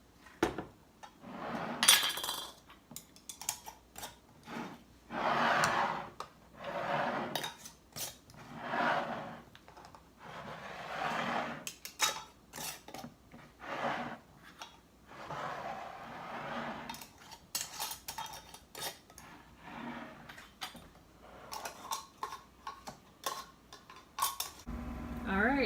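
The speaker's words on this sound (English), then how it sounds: "Now we're going to put our rings on." Metal rings being screwed onto glass canning jars of chicken thighs in broth, giving repeated bursts of gritty scraping and light metal-on-glass clinks, close up, spaced out over a quiet background.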